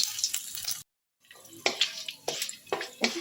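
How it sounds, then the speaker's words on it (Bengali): Bursts of crackling sizzle from whole garam masala spices, including cinnamon, frying in hot mustard oil, close by, with a short silent gap near the start. "মশলাটা একটু ভেজে নিচ্ছি।"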